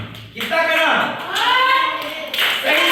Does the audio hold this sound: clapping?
yes